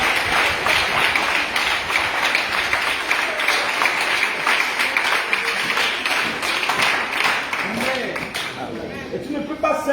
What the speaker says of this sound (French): il faut applaudir pour maman